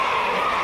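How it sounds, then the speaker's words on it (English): A wrestling crowd roars steadily inside the Liverpool Olympia arena, a dense wash of cheering voices that stays even and loud through the whole moment. "listen to this crowd in the Liverpool Olympia"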